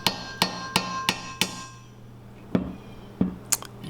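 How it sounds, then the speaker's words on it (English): Hammer blows on a mini bike engine's countershaft bearing during removal: five sharp metallic strikes in a steady rhythm, a pause, then three more spaced knocks with ringing clinks, close and clear with no talk. "This is me removing the countershaft bearing the wrong way."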